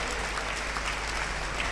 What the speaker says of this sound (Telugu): గట్టిగా చప్పట్లు కొట్టాడు, గట్టిగా కొట్టాలా.